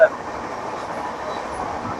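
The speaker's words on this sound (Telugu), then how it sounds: "పక్కన ట్రైన్ వస్తుంది" A train rolls past close by on a trip in Agra, a steady low rumble of wagons that holds evenly after a short bump at the start, with voices faintly in the background.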